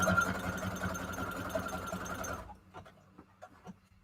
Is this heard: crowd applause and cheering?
no